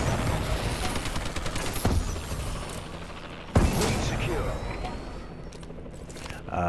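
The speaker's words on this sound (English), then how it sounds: "Friendly bombing run clearing the way" Heavy explosions from a friendly bombing run in Advanced Warfare roll through dense, continuous battle noise, with a sharp loud blast near the middle and another toward the end.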